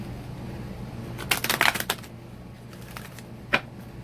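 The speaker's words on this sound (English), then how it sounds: "we're going to shuffle our fairy tale deck and spread that one out as well" A fairy tale oracle card deck being shuffled at close range, with a dense burst of riffling card flutters followed by a single short riffle after a pause, with no talking.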